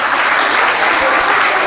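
Steady, dense applause from an audience at a Teachers' Day ceremony held by an academy in Chawinda, continuous and fairly loud throughout with no pauses.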